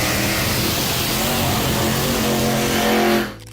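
A 1968 Hurst Hemi Underglass Plymouth Barracuda drag car roars at full throttle, a loud, sustained, rough engine blast that holds steady before fading away quickly at the end.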